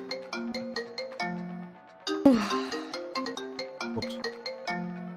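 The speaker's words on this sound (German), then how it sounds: "Ich erschrecke mich immer, wenn mein Telefon geht" A phone ringtone in a farming video game plays a repeating melodic jingle, loud and close, broken by a single thump partway through.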